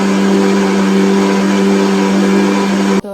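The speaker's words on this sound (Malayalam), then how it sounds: "ഇതിങ്ങനെ അരച്ചെടുക്കട്ടെ കേട്ടോ" A mixer grinder runs loud and steady as it grinds dosa batter with coconut and water, giving a constant high whir, then cuts off abruptly at about three seconds.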